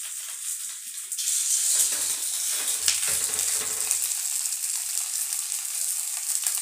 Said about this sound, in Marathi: आप्या पात्रात आपण हे असं ठेवून घेणार आहे।